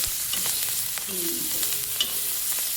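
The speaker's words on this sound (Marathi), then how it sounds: "मिरची तळायची हा तर ह्या मस्त मिरची अगदी तळून घ्यायची छानपैकी" Green chilies frying in hot oil, a dense continuous sizzle and crackle with a few soft spoon scrapes, close and steady with no talking.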